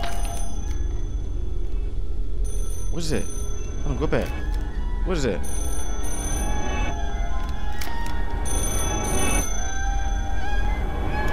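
Telephone rings inside the Silkbulb Test video game, a steady electronic bell tone repeating throughout while people talk over it and other game sounds.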